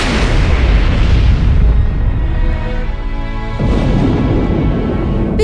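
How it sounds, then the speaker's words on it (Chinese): Firecrackers exploding in a loud, continuous barrage of dense cracks and booms that keeps going for the whole stretch, easing slightly partway through before building again. "是爆竹。"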